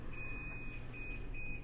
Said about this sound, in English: That's my laundry, but that beep,